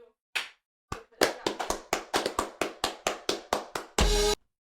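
Hands clap in a quick, steady series of about a dozen sharp, close claps after a couple of isolated ones, finishing with a brief, louder burst of clapping.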